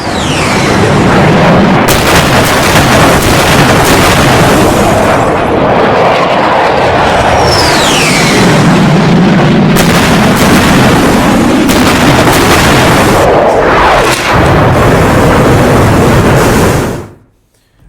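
Bunker buster bombs dropped from a B-2 bomber detonate in a very loud, sustained series of heavy booms, with descending whistles and rumbling aircraft noise, before cutting to silence at the end.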